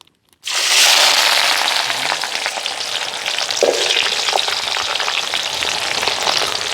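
Oil sizzles steadily as ingredients fry for a fish biryani, a loud dense crackle that starts abruptly and holds constant, with scattered pops and no talking.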